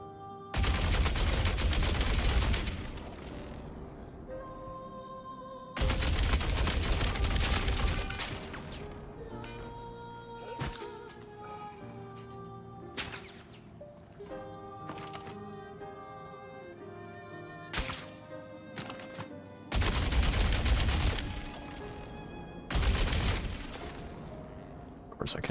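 Loud bursts of automatic gunfire from a gun with heavy recoil in the video game Star Citizen, several long volleys separated by quieter stretches of game sounds and scattered shots.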